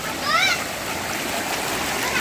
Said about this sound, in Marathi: वरतून असा पाणी येतोय वरती झराच आहे मोठा तिथूनच हा पाणी येतोय